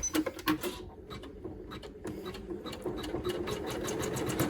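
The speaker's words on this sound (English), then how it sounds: "you can go ahead and put the presser foot back down and hit the tack down stitch" Ricoma EM1010 embroidery machine stitching a tack-down stitch, a rapid mechanical needle chatter with rhythmic clicking, starting with a few stops and then running steadily and close up.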